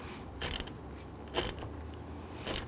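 A ground wire terminal being snugged down on a Toyota Tundra fog light kit, three short quiet ratcheting clicks spaced about a second apart against a faint background.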